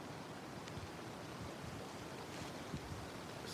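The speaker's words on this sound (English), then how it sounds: "It's windy day today." Soft, steady wind blows outdoors, a broad hiss and rumble with occasional faint gusts, with no voices.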